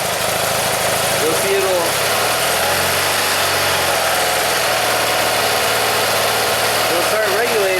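A 1982 BMW R65 motorcycle engine runs at a loud, rough idle and is revved up a little, under a voice as he explains its charging system.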